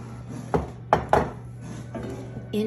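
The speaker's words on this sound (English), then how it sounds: "Into the oven it goes." A cheese torte pan is set into an oven with a few metallic clanks and knocks, quiet and close, over a low steady hum.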